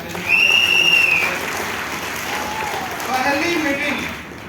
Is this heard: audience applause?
yes